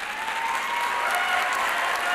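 Brief, steady burst of audience applause for gold honor cord graduates at a high school graduation ceremony, a dense crowd clapping evenly in a large hall.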